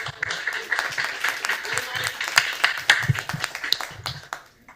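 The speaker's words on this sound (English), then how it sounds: "An applause, please" Audience at a Porto pitch event applauds the Wing Driver co-founder and CEO: scattered, uneven clapping from a modest crowd, with a voice speaking over it, tapering at the end.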